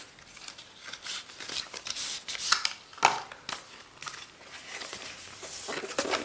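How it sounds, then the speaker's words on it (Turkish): Close papery rustling, scraping and tearing as a smartwatch's cardboard box is pried open, with a few sharper cracks among the crinkling. "Şu kısımdan bu kutuyu açıyoruz."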